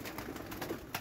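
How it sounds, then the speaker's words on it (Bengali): Army pigeons in a large loft flap and beat their wings, with soft cooing mixed into steady close rustling and a few sharper wing bursts. "কবুতর খুবই দাপড়াদাপড়ি করতেছে"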